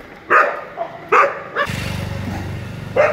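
Dogs barking outside late at night, several sharp, loud barks in short bursts, close by, with a low motorcycle-like engine rumble starting partway through beneath them.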